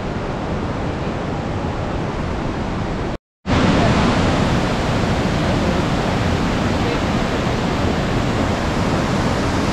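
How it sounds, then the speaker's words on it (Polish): Dense, steady roar of rushing water, like a waterfall feeding a fast river, at Devil's Throat Cave in Bulgaria, broken once by a brief moment of silence. "Wodospad, rzeka płynie."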